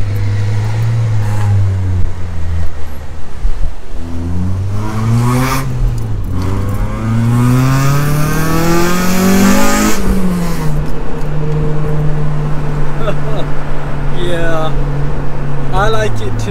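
A Honda Civic Type R exhaust with a silencer revs up and down repeatedly into VTEC, rising to high-pitched peaks and falling back, loud and close, with a steady idle between pulls.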